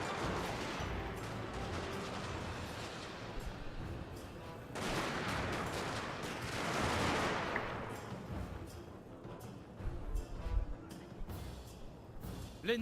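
Troops firing guns in the game Total War Shogun 2: distant crackling volleys and scattered gunfire, with heavier bursts of massed fire midway and faint battlefield noise throughout.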